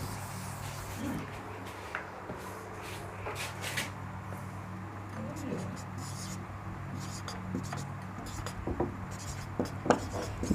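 Chalk writes on a classroom board in short scratchy strokes and taps, faint and intermittent under a teacher's voice in a Class 6 science lesson.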